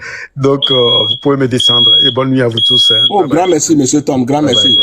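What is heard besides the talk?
smoke alarm going off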